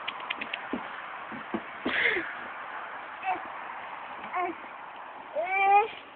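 A cat meows amid household chatter, a few short mewing calls, with a rising, drawn-out meow near the end over steady background noise.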